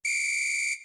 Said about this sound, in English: Referee whistle.